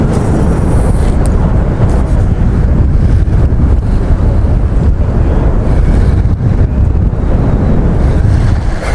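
Strong wind gusting across an exposed lake bank during a bass fishing outing, a loud continuous roar buffeting the microphone with no letup.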